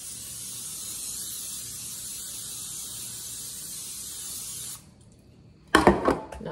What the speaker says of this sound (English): So we're gonna spray these.